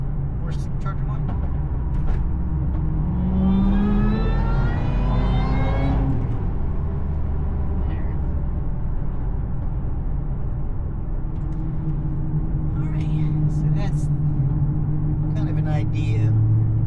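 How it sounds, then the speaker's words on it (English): A 2007 Shelby GT500 SVT Mustang heard from inside the cabin with the windows up, its supercharger whine rising in pitch over a steady engine rumble under part throttle, then easing off as the brakes come on. "Gotta hit the brakes because a little bit more supercharger whine."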